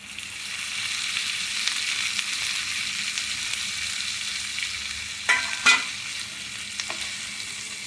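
Boiled cluster beans fry in a pan with a steady soft sizzle while being stirred, and a few sharper scrapes and clinks of the spatula come near the end. The sound is close and moderate, and no one speaks.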